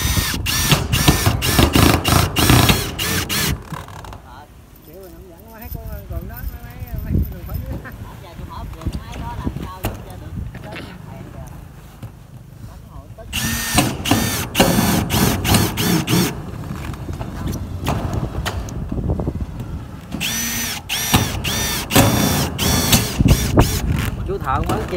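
A Milwaukee M18 Gen 3 cordless drill drives screws in loud, rapid buzzing bursts. The runs come in three main clusters separated by quieter stretches in which a voice speaks over faint mechanical clicks.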